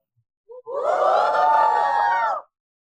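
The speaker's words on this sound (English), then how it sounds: "Can you give me a big cheer?" An alumni show audience cheers loudly after a short shout, a dense roar of whoops and screams holding for about two seconds and then cutting off sharply.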